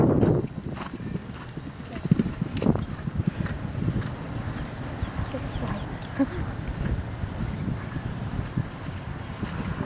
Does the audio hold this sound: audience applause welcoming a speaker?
no